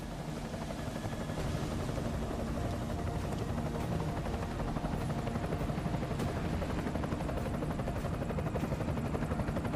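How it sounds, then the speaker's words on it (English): An enemy helicopter in the video game Deus Ex: Mankind Divided drones with a steady, dense rotor wash and engine roar that holds constant throughout, with no voices over it. "Enemy helo sighted."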